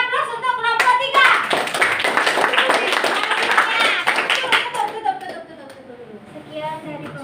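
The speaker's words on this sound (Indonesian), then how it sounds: "Beri aplaus untuk kelompok 3" A classroom of schoolchildren claps together after a group presentation, a dense burst of hand claps that swells quickly and then tapers, with children's voices chattering underneath toward the end.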